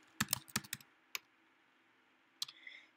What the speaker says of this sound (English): Are you kidding me? I have to type it.